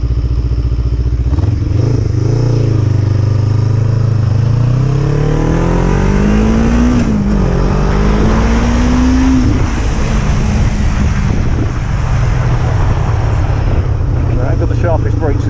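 A Kawasaki ER5 motorcycle engine runs loud and close, its steady drone climbing in pitch as the revs rise and settling partway through, with a rough mechanical clatter throughout.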